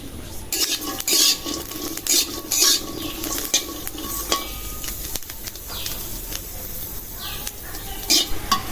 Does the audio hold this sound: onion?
yes